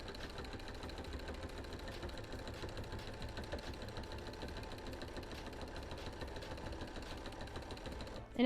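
A sewing machine runs continuously at a low, steady level during free motion quilting on a quilt, a soft even hum that stops abruptly at the end.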